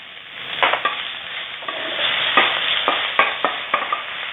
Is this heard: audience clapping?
no